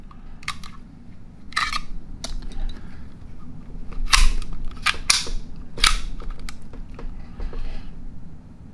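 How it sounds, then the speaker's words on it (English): A Ruger Mark III .22 LR pistol is worked by hand after reassembly: a series of sharp, close metallic clicks and snaps from the bolt locking open, releasing and a dry-fire hammer fall, spaced irregularly with quiet gaps between. "Bolt stays open, bolt releases, dry fire."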